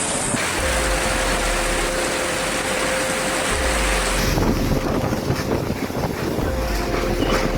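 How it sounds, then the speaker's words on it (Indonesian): Strong wind with rain during a storm in Kendal and Batang, Indonesia, a loud continuous roar buffeting the microphone, gusting harder toward the end. "Hujan angin."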